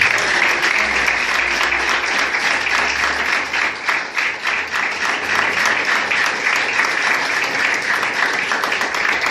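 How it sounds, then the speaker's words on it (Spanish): A church congregation applauds during a Spanish-language service: sustained, loud, crowded clapping filling the room continuously, with a faint low hum and a few voices underneath. "Dele palmas al Señor."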